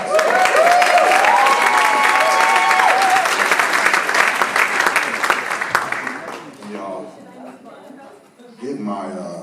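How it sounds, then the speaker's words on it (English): Audience at an album release show at the Capri Theater breaking into loud applause and cheering, a whistle or shout standing out early, the clapping fading after several seconds into quieter crowd murmur and a voice. "Give yourselves a round of applause."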